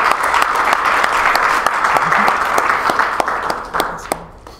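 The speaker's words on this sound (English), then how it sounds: "let's give our speaker a round of applause" A conference audience applauds a speaker steadily, a wash of many hands clapping that thins out and fades toward the end.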